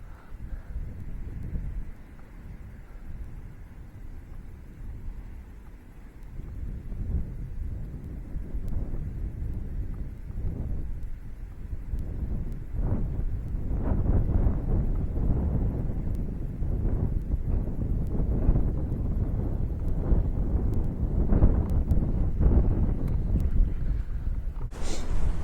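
Strong wind roars at a small pond in a continuous low rumble buffeting the microphone, building in force and staying heavy throughout with no voices.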